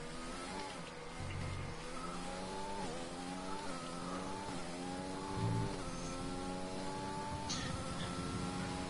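An F1 2020 race car engine revs continuously, its pitch climbing and dropping through repeated gear changes, loud and close with no talk over it.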